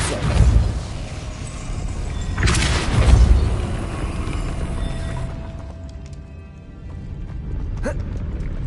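A Depulso spell cast in the video game Hogwarts Legacy on PS4, with two loud booming bursts about two seconds apart, followed by a quieter rumbling tail and a faint later thump.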